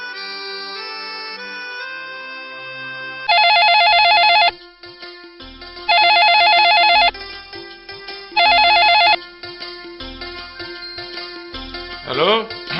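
A telephone ringtone rings out loud in three bursts of a repeating electronic melody, with music and other sounds between the bursts.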